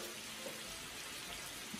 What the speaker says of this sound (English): Ooh, that's sizzling.